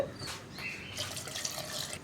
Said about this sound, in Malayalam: വെള്ളം കുറവാണ്, ഞാൻ കുറച്ചുകൂടി വെള്ളം ചേർക്കുന്നുണ്ട്.